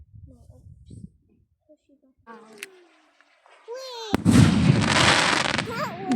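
Fireworks on a UK bonfire night, a rocket whistling upward and then bursting into a loud, sustained crackling display, with children and adults talking quietly beforehand.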